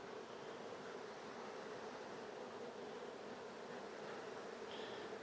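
Honeybees buzz in a hive being worked with smoke, a dense, even hum that stays constant and fairly faint throughout, with no voices.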